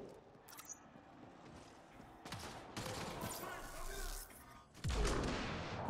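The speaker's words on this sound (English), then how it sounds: "What are you shooting at?" Bursts of gunfire and rapid volleys of shots from the video game Mass Effect Andromeda, mixed with combat noise and explosions, building louder toward the end, with a voice speaking between them.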